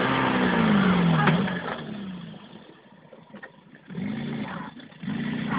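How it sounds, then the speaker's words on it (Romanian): A Skoda 120 rally car engine revving hard, then dropping off into engine braking with a falling whine, before climbing again in loud, close bursts with no talking. "To ti stačí, to už se motor brzdí!"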